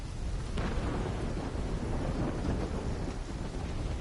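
A thunderstorm with heavy, steady rain and a deep rolling rumble of thunder, loud and continuous throughout with no voices.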